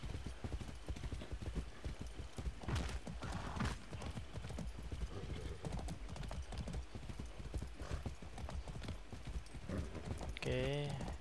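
Horse hooves clip-clop steadily in Far Cry 6 on Xbox Series S as a magic horse is approached, under continuous game ambience and talk, with a neigh-like cry near the end.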